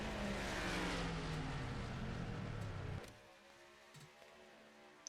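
A race car engine in a NASCAR racing game at Darlington, the 2024 Southern 500, roars loudly, its pitch falling as it slows, then drops away after about three seconds to a faint, low idle.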